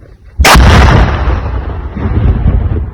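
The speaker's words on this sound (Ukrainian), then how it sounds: "Вибух!" A sudden loud blast from the demolition of munitions in Kirovohrad region, Ukraine, erupts, followed by a long rumbling roar that slowly fades but stays heavy and close.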